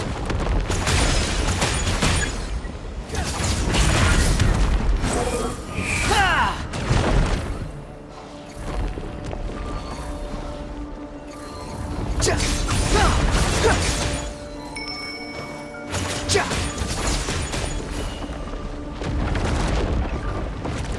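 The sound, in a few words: breakable wall being smashed, from a video game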